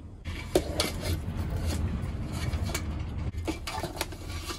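Large Ca Mau mud crabs are set into a big cooking pot for steaming, giving a run of close hard clinks and knocks of shells against metal over a steady low background, with no talk.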